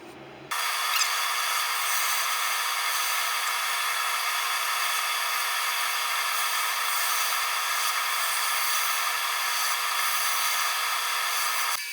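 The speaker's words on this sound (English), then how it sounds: "Let's go down a little bit more with the regular gouge, and then we'll pull it back out for hollowing." A wood gouge carving out the inside of a small pot with bug holes, giving a steady, continuous scraping and rubbing sound that runs close and unbroken for nearly the whole stretch, with no talking.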